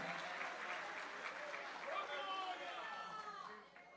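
A church congregation applauding in worship, sustained, fairly faint clapping with crowd chatter and a few raised voices that thins out at the end.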